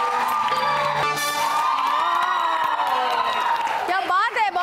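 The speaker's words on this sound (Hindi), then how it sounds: "चलो ठीक है शबी के लिए बहुत सारी तालियां।" Studio audience on a televised Eid special variety show bursting into applause with whoops and cheers, loud and sustained, while a voice carries on over the crowd.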